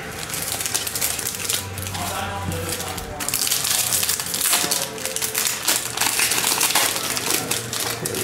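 Foil baseball card packs from a hobby box are torn open and crinkled up close, a loud continuous rustle of ripping and crumpling wrappers with no speech in between.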